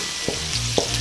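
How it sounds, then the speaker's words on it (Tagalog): Garlic sautés in a hot pan with a steady, close sizzle, broken by two sharp scraping stirs about half a second apart. "Ngayon po ay uumpisahan na po natin ang paggigisa ng bawang."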